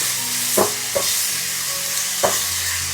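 A spoon stirs a frying mixture with blended tomato in a pan over steady sizzling, with three distinct scrapes and taps against the pan.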